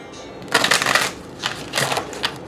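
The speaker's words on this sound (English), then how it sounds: "I'm going to do one more shuffle." Tarot cards being shuffled up close, with two quick riffling bursts followed by a few soft taps.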